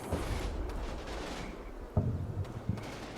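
Machine gun fire trading back and forth in a World War–style wargame, with a few sharper bursts standing out over a dense, rumbling battle backdrop at moderate distance.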